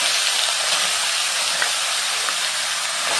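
Grated carrot hits melted ghee for carrot halwa, producing a loud, steady broadband sizzling hiss close by, with faint crackles and no talking.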